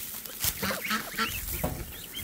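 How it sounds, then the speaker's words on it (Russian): Geese honk repeatedly while feeding among ducklings and other fowl, several nasal calls overlapping at close range over a steady outdoor background. "Гуси кормятся, да, как говорится."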